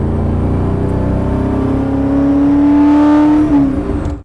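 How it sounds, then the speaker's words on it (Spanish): A classic Maserati's engine drones steadily while driving, with a rising harmonic tone as it accelerates before easing off near the end, loud and close with no talk. "Dios, el sonido del motor en estos coches es increíble."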